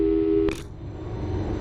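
A telephone call tone in the Portal 2 video game: a steady tone cut off by a short bright click, then a low hum.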